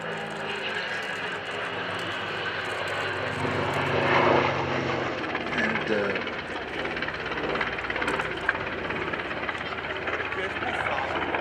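A B-25 Mitchell bomber and P-38 Lightning propeller aircraft fly at the Duxford air show, a loud sustained engine drone that swells and fades, with someone talking over it.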